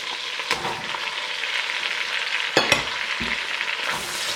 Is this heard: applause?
no